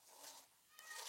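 A cat meows twice in quick succession indoors, the calls fairly faint and close, with no one talking over them.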